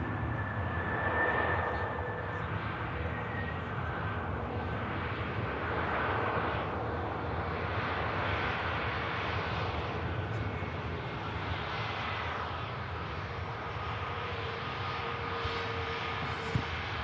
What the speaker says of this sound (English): just over Stockport on the approach is the Qatar